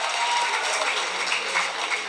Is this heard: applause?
yes